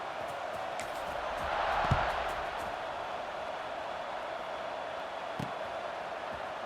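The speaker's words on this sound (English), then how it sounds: "this crowd is buzzing after that last score" A stadium crowd in College Football 26 buzzes as a steady wash of distant roar after a touchdown, swelling briefly with a faint thump before settling into constant background murmur.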